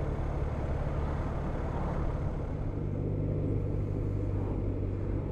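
A BMW R1250RT ShiftCam motorcycle engine runs with a steady low rumble, even and continuous, close by, no voices.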